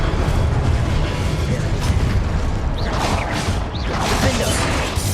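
Incendio fire spell cast in the Hogwarts Legacy video game, a sustained roaring whoosh of flame with booming, crashing bursts, with a player's voice shouting over it.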